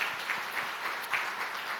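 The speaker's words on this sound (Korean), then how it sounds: "우리 한번 박수로 우리 하나님과 축복하겠습니다" A church congregation at a Sunday service applauds in blessing for a newly formed family, a steady wash of many hands clapping at moderate volume from across the sanctuary, with no voice over it.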